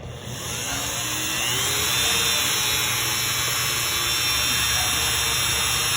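A rotary tool with a coarse grit bit sanding and shaping paint chip and resin jewelry, a steady high whining buzz with a bright tonal hum that runs continuously and close up.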